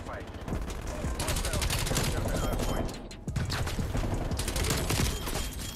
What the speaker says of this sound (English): there's a kid shooting me from across